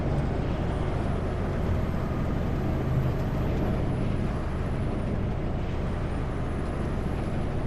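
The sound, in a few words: truck engine brakes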